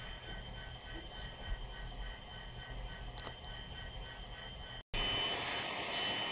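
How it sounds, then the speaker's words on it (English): An MTH model train locomotive runs along a home layout, giving a steady close mechanical hum and rumble with a few brief clicks. It is cut by a short break and then turns louder and brighter. "So let's give this MTH a run."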